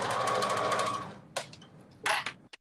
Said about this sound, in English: So I am now just sewing it down.